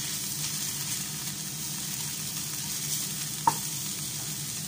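Chicken coated in masala sizzling in a pan while being stirred, an even, close frying hiss throughout with a single sharp clink of the spoon against the pan partway through, no talking.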